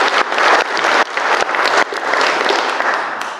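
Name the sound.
applause for the wedding party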